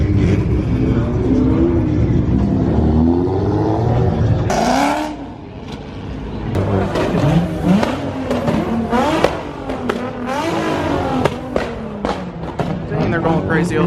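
A GTR sports car revs hard nearby at a store parking lot, with sharp rising and falling engine bursts and crackles, while people talk and shout over it throughout.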